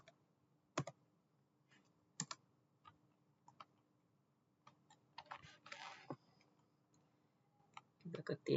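Sparse keystrokes on a computer keyboard while editing a shell script in the vi editor on Ubuntu, isolated clicks followed by a short burst of typing, faint and close.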